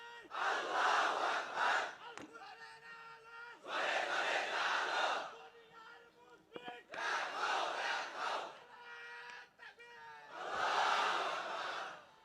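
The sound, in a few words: crowd shouting takbir (Allahu Akbar)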